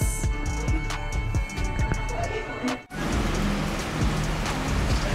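Steady rain falling outside a cafe in Manila, a dense hiss of drops on surfaces with occasional louder splats and faint traffic rumble underneath.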